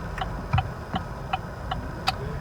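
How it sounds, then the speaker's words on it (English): The hazard lights of a 2018 Chevy Volt LT tick inside the cabin, a faint and steady series of about six evenly spaced clicks over low road and cabin hum, with no talking. "going to just put the hazards on and let this car go ahead of me here"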